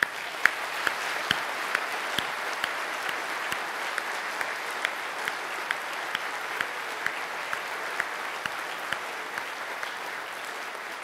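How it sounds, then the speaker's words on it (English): A conference audience applauds the premier in sustained, steady clapping throughout, with a few sharp individual claps standing out at a regular pace above the crowd. "I want to invite a round of applause for our premier for her public service to Alberta."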